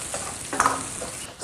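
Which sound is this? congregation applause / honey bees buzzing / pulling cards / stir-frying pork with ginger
stir-frying pork with ginger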